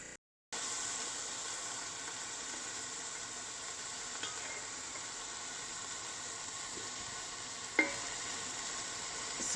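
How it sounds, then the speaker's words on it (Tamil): Cauliflower with curry leaves stir-fries in a pan, a soft even sizzle and hiss after a brief silent start, with a couple of faint utensil clicks; no one speaks. "இதை நம்ம வந்து அதோடு சேர்ந்து ஆட் பண்ணி ஸ்டர் ஃப்ரை பண்ணலாம்."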